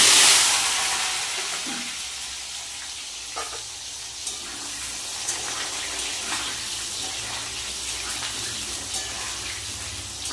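Cut potatoes frying in hot oil with bay leaf and whole cumin for a spicy soybean dish: a steady, bright sizzle throughout with occasional small pops, strongest at the very start, no voices.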